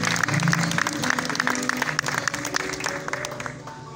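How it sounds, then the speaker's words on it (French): Applause from a crowd at a tribute event in Kinshasa, a steady wash of clapping that holds for a few seconds and then thins slightly toward the end. "Applaudissez pour ça."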